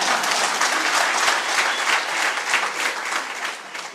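A political rally crowd claps in a dense, sustained round of applause that fades slightly near the end, with no speech over it.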